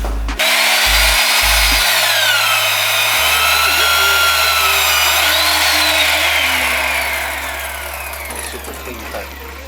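A power tool cuts tubing for a fitting, a loud continuous whine and grind that holds steady across the clip with a shifting pitch, fading slightly near the end.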